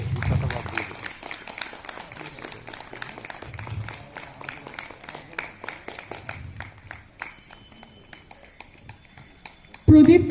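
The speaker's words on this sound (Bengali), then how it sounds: "একটু জোরে তালি দিন" A crowd claps steadily at a Vivekananda Jayanti National Youth Day celebration, with rapid overlapping hand claps running through the whole stretch, voices in the background and a louder burst at the end.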